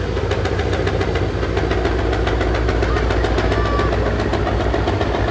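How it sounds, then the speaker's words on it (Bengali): Launch ship's engine running with a fault, a loud steady idling drone with a rapid, even knocking pulse throughout, close by and with no talk. "ফারান ছয়ের মেবি ইঞ্জিনে কিছু প্রবলেম হয়েছে"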